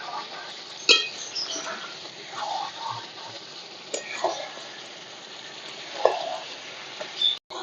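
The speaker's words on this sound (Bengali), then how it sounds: "চাপা দিয়ে দিয়ে চিকেনটাকে কিন্তু এইভাবে কষবো, এখনো কিন্তু কষতে হবে" Chicken kosa being stir-fried in a pan, with a steady low sizzle and intermittent scraping and stirring knocks from a spatula, close up and fairly quiet.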